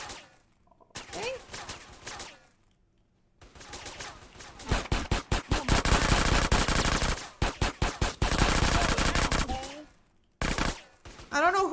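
Rapid bursts of video game gunfire in Grand Theft Auto: San Andreas, loud sustained automatic fire broken by short pauses, with scattered single shots at the start and end.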